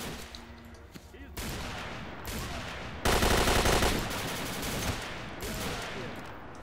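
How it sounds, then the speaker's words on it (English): Sustained gunfire erupts from behind in the shooter game S.T.A.L.K.E.R. (SGM 2.1 mod), dense bursts and volleys that swell loudest midway, with a voice talking over parts of it. "that's probably why I'm hearing shooting from behind me"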